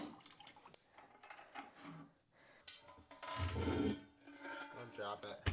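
Liquid whey drips and splatters from freshly cut curds into a kettle held underneath while making raw milk Derby cheese, a cheddar-style English cheese, in a kitchen, with people talking over the faint, irregular drips.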